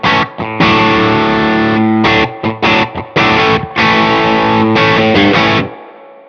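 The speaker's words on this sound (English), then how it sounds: "That's the sound of this thing with some, with a fair amount of gain." Electric guitar driven through a BBE screamer overdrive pedal with a fair amount of gain, treble backed off slightly, playing loud choppy distorted chord bursts separated by short stops, ending on a sustained chord that rings out.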